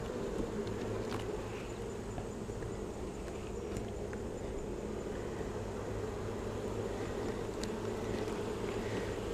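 Honey bees buzz steadily throughout a hive inspection as nectar is being packed into a box, a dense continuous hum close to the microphone with faint scattered clicks and no talking.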